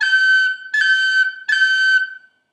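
Three high G cuts on a whistle in quick succession, each a short bright note with a sharp finger-snap attack, evenly spaced and played alone.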